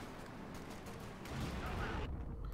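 Sturmtiger rocket mortar in the video game Company of Heroes 2, heavy booming blast and rolling battle noise, loud and dense, swelling midway before cutting off abruptly.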